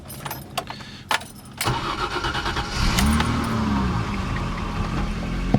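A BMW E30 car engine, just after a valve adjustment, is heard first with a few clicks and a key turn, then a brief crank that catches and settles into a steady idle with a rising pitch, close and moderately loud.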